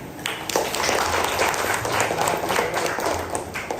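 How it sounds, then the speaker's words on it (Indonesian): A class of students applauds during a lesson, a steady crowd of hand claps at close range lasting the whole stretch. "Tepuk tangan"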